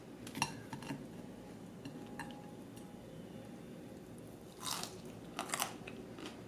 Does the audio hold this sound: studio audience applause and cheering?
no